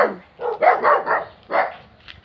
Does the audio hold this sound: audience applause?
no